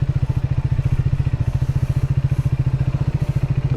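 A motorcycle in first gear labours up a rocky mountain road, its loud engine thudding in a fast, even pulse with clattering underneath, close and without talk.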